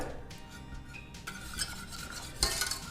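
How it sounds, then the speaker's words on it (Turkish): A spoon stirs gluten-free vegan béchamel sauce in a pot, giving soft, repeated scraping and clinking strokes up close, with a couple of sharper knocks against the pot. "karıştırmaya sürekli devam ediyorum"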